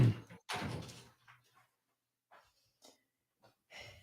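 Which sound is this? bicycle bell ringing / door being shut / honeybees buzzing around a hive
door being shut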